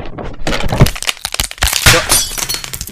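A smartphone dropped down inside a recliner gives a loud, close run of sharp cracks, crunches and glassy clinks lasting a few seconds, with no talking over it.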